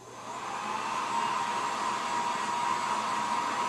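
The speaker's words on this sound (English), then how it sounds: "It's a blow dryer." Handheld blow dryer running steadily, a loud close whooshing whine that rises in the first half second and then holds an even tone, with no talking.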